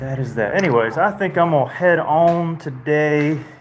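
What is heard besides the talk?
No distinct noise like a dog, phone or traffic.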